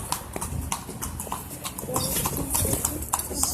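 Horse hooves clip-clop in a steady rhythm as a carriage rolls along a street in Egypt, close and continuous, with wheel rumble beneath and occasional voices of riders.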